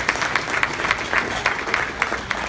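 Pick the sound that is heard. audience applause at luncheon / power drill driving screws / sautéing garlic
audience applause at luncheon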